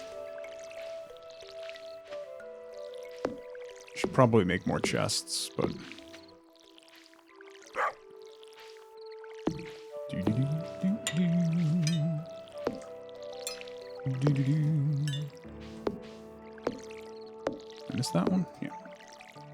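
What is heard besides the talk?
watering crops with watering can in Stardew Valley video game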